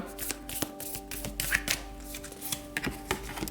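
Tarot cards riffled and shuffled by hand during a reading, a series of soft close flutters and taps with a steady low hum beneath.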